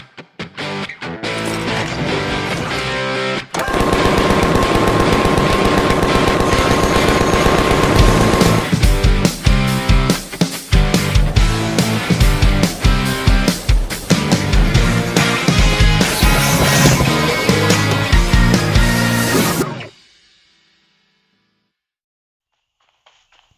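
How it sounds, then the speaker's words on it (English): A Gatling-style minigun in the Creative Destruction video game fires loud, dense, distorted bursts almost without a break for about twenty seconds, then cuts out abruptly into silence. "It's a type of it's basically a minigun that shreds through people, and when I say shreds, I mean it shreds."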